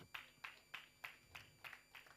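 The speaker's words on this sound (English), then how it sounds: "clap your hands if you know what I'm talking about" Congregation at a church sermon clapping hands in a slow, regular rhythm, about seven faint, evenly spaced claps.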